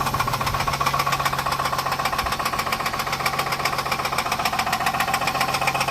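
A running 2006 Pontiac G6 engine with a rapid, steady metallic rod knock throughout, loud and close, no voices.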